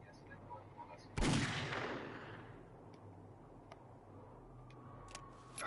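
A single Magnum shot fired in the zombie survival game 7 Days to Die rings out loudly, then its echo fades slowly over a few seconds. A few faint clicks and ticks follow against a low background hum.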